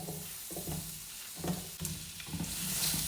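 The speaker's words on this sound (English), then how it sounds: "Add courgette to the pan" Sliced courgette sizzles in a pan with butter or oil, a close, continuous frying crackle with soft stirring knocks and scrapes.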